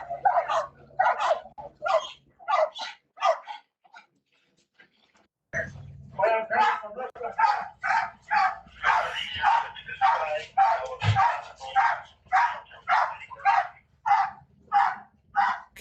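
A dog barks repeatedly in a steady series of loud, close yips and barks, with a short pause before the barking resumes, while people talk over it.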